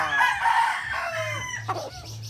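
A roundhead Boston and white Kelso cross rooster crows loudly and close by, one full drawn-out call with a rising then falling shape, joined at the end by a few short clucks.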